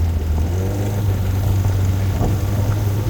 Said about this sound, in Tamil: சரியான ஒரு காற்று அடிக்குது